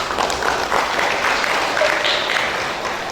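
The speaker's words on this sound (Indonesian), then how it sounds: "Kita berikan tepuk tangan untuk Bapak Ketua kita" Applause from a ceremony crowd for the chairman at an installation event in Sorong: dense, steady clapping that fills the room for about three seconds.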